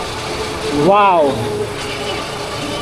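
A Kawasaki Z650 motorbike rides along a tree-lined road toward Phuntsholing, Bhutan, its engine a steady, close drone with wind noise. A rider's voice briefly exclaims over it.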